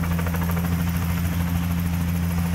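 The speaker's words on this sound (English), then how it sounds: "that helicopter, seriously, I was watching it across the street and it landed right there at the hotel" A helicopter landing nearby at a hotel gives a loud, steady rotor beat with a strong low hum and a whining engine, continuous and close throughout.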